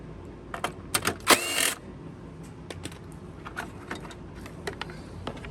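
A 5/16 ratchet wrench loosening the three starter recoil bolts on a lawn mower: close, quick bursts of metallic clicking and rattling, with short pauses between runs.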